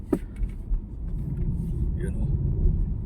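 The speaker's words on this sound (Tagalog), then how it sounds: "Ito yung kotse mga ka-driver na napakalakas." A car engine rumbles low and steady at close range, with a brief voice at the start and faint background sounds over the throb.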